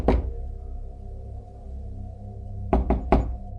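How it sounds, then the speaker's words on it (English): Three heavy, deliberate knocks on a house door, ringing out loud and close near the end after a low, steady rumble, spaced as separate thuds in an eerie horror-story setting. "3 heavy, deliberate knocks that echoed through the house"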